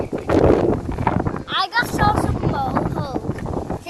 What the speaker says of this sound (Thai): ลมลมมันแรงมาก